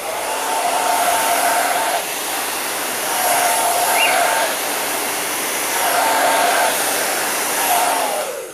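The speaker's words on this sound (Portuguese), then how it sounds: "E olha que esse secador não é potente não, viu?" A not very powerful hair dryer blows steadily and loudly during a homemade hair hydration treatment, with a continuous airy roar that swells slightly in a few spots and runs without talk.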